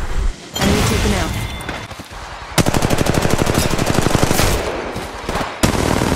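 Rapid automatic gunfire in a video game shooter rattles in a long, loud, evenly spaced burst after a few scattered shots, with in-game character voices calling out between the firing.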